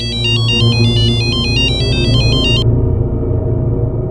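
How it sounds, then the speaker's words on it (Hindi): A mobile phone rings loudly with a repeating electronic warbling tone that stops abruptly partway through, leaving a steady low rumble of background music or room noise. "फोन बज रहा है, उठा जा।"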